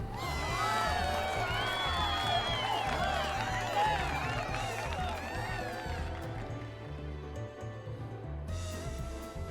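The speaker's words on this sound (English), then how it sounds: "let us conclude by giving one more round of applause to our first place fashionista" A crowd in a Final Fantasy XIV cutscene cheering and applauding the first-place winner of a fashion contest, a sustained roar of whoops and shouts that thins out toward the end.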